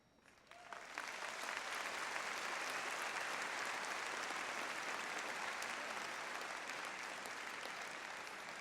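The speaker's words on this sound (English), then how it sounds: "Please acknowledge our honorary degrees recipient with another round of applause." Audience applause at a Springfield College undergraduate commencement for an honorary degree recipient, swelling quickly from quiet into a sustained, even round of clapping from a large crowd.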